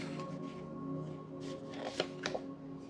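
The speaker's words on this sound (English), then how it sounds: "let's do one more shuffle" Soft riffling and flicking of tarot cards being shuffled, a few sharper snaps near the end, over a faint steady hum.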